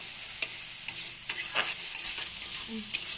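Spice paste fries in oil in a pan while a utensil stirs it, soft sizzling broken by sharp scraping knocks at irregular intervals, close and without talk.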